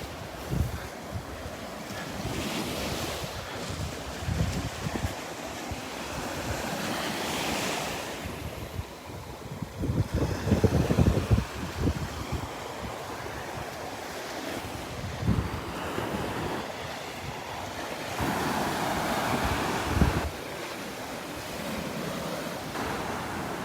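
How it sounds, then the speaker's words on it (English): Ocean waves break on the beach at Delnor-Wiggins, a continuous rolling wash of surf with periodic louder crashes, heavy wind buffeting the microphone throughout, and no talking. "other areas where the waves get really big"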